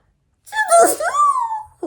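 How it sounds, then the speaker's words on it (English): A single loud sneeze from a woman, a quick drawn-in breath building into a sharp, voiced burst that trails off, close to the mic with silence before it. "I'm going to sneeze."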